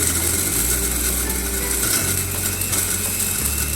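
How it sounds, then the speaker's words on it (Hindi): A spice grinder runs steadily and loud, a constant mechanical whirr and rattle filling the whole stretch, with a brief dip in the motor hum partway through. "मैं ग्राइंडर चला देता हूँ।"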